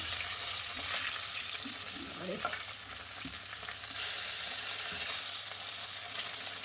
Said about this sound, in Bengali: এই যে এই মাছগুলো ভাজা করে নিচ্ছি ভালো করে লাল লাল করে